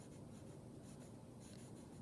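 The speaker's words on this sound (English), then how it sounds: "I just want to make it as black as I can using the charcoal pencil" Charcoal pencil shading on paper, a soft, steady scratchy rasp with faint rhythmic strokes, heard close and quiet with no talk.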